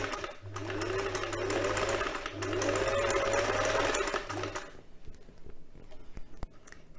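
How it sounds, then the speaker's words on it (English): A sewing machine stitches a quilt cover in quick bursts, three runs of fast mechanical whirring separated by short pauses, close and clear, before stopping and leaving a quiet room with a few faint clicks. "get your presser foot, and then just sew down the line"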